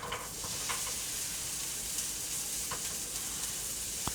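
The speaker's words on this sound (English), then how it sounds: "In the pan, I got some onions that have been cooking up." Onions and carrots fry in a pan with a steady, close hiss and sizzle, a few soft stirring taps scattered through it.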